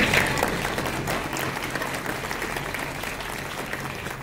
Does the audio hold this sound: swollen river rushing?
no